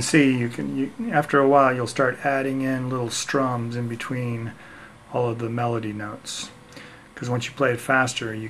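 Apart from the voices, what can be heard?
None of the usual background noises is heard.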